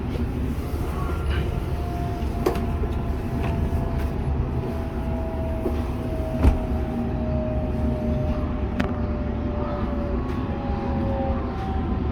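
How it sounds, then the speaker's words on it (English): Steady hum and whine of a Sydney Trains Millennium electric train's motors as it departs, under continuous rumbling rail noise, with occasional clicks and faint rising tones. "have a listen to those electric motors"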